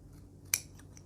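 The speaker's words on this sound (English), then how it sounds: "Just trim this off a little bit here." A single crisp snip of scissors trimming the fabric neckline facing of a classic sheath dress, one short close cut against a quiet room.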